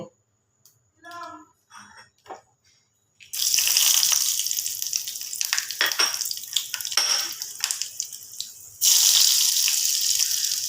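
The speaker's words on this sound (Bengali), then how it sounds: "এইটা আমি তেলের মধ্যে ফোড়নে দিয়ে দেব।" Whole spices, including mace, crushed black pepper, cardamom and two dried red chillies, sizzle in hot oil for tempering: a few soft knocks first, then a sudden loud hissing crackle that drops briefly and surges again, no talk.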